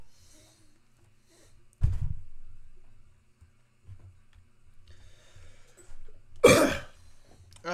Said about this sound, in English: I'm so sorry about coughing.